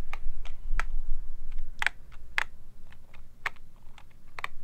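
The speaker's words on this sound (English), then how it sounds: "It is in fact a rubber dome keyboard, but what I really like about this is it has a very strong sense of tactility for a rubber dome." Keys clatter on a Cherry G86 POS rubber dome keyboard, with a dozen or so separate thocky presses typed at a slow, uneven pace, close up and alone.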